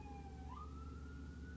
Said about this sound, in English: lots of sirens on my end before and now